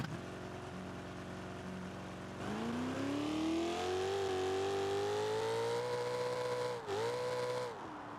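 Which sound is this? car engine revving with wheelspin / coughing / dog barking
car engine revving with wheelspin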